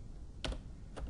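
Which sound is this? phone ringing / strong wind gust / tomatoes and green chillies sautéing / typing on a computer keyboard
typing on a computer keyboard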